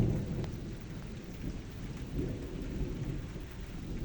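Thunderstorm with rain, a constant dense hiss of rainfall on surfaces and a low rolling rumble of thunder underneath, heard at a steady moderate level with no voices.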